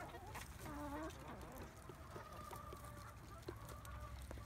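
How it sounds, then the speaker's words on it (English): Small bantam chickens kept for shows cluck and murmur on a farm, a few soft rising calls followed by scattered quieter clucks, faint and close-by. "And these are our bantam chickens."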